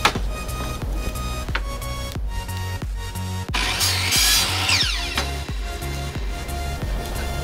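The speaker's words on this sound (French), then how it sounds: "je vais juste le passer sur la scie anglais pour le mettre vraiment droit" A table saw runs through wood, straightening a board for a small spice shelf, its whine rising as the blade cuts, with rhythmic knocks and a harsh rasp midway.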